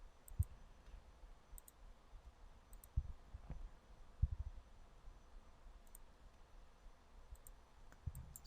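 A few faint, sharp mouse clicks, spaced irregularly, while working in SOLIDWORKS eDrawings software; there is a quiet background hiss between them.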